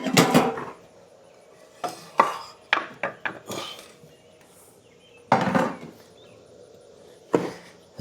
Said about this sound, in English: so get my lid back on.